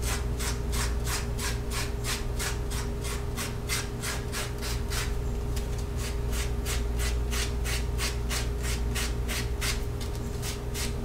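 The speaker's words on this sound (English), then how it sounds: "I'm just gonna clean this up a little bit with sandpaper." Sandpaper rubbing the cut edges of a leather card slot in steady, rapid back-and-forth strokes, close and even, with a short break midway and no talking.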